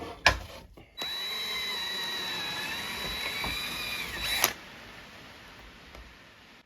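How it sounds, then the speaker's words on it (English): A click, then an electric drill whines steadily for a few seconds as it bores a small divot into the bottom of a metal fishing-weight mould, stopping abruptly with a brief clatter afterward. "We're just going to drill down in the bottom just to make a little divot."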